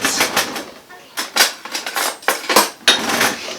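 A spoon stirs a sourdough starter of flour and water in a container, producing a quick series of close, loud clinks and scrapes in irregular bursts with brief pauses between them.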